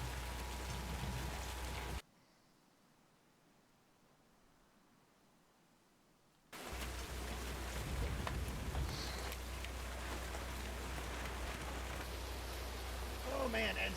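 Heavy rain in the storm-chasing video game Twisted, a steady loud broadband wash that cuts out for a few seconds and then returns just as dense, with faint talk beneath it.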